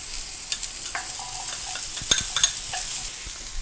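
Squash tipped into a pan over medium-low heat, sizzling steadily while a utensil stirs and scrapes, with a few light clinks of cookware near the end.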